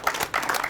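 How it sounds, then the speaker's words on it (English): Audience applause after a comedian's set on a television comedy show: a short, fairly faint burst of dense clapping, lasting under a second. "Let's get an applause."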